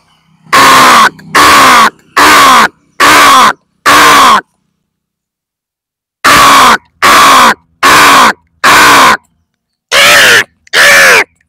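A voice imitates crow caws in two loud, close bursts: five harsh, evenly spaced caws, a pause, then six more, each ending in a falling croak.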